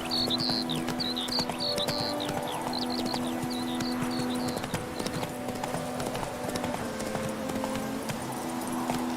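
Geralt's horse Roach in The Witcher 3 walks with steady, rhythmic hoof clip-clops, close and clear. Birdsong chirps above and a low humming drone runs underneath.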